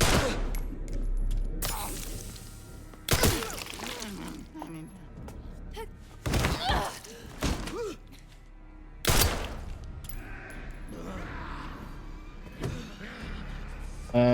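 Gunshots in the survival-horror video game Resident Evil 9, several loud separate blasts spaced a few seconds apart, with quieter game ambience and a player talking in between.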